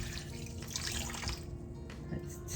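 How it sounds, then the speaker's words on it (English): Gently warmed water pouring into sourdough dough in a bowl on a kitchen scale, a steady close liquid splash lasting a few seconds with no talking. "Now we're gonna add 300 grams of water. This has just been gently warmed."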